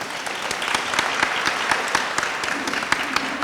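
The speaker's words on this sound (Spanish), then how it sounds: "Por favor, un aplauso." Audience clapping at an education event on digital-era learning, a dense, steady round of applause with sharp individual claps throughout, fairly close and filling the whole moment without speech.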